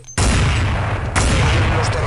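A sudden burst of loud, dense gunfire erupts after a brief quiet moment, sustained and harsh with a second sharp volley near the end.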